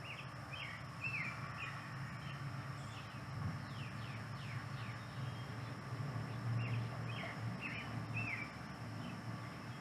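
Birds chirp outdoors, faint and distant, with repeated short calls over a steady low background hum.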